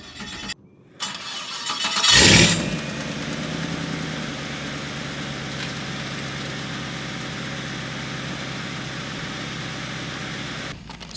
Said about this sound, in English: Let's get a startup on the 2006 Lamborghini Murcielago.